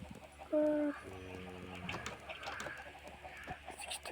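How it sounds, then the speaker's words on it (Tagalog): Several chickens cluck and murmur in the background, with one louder drawn-out call near the start, over faint farmyard noise. "Napakadaming manok ko."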